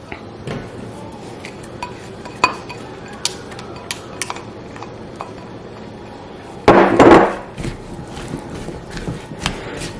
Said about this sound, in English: Just mix my onions in here with my potatoes. Give it a toss around.